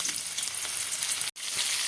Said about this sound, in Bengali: করলাটা ভাজা চলছে